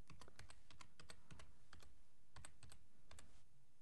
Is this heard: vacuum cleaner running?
no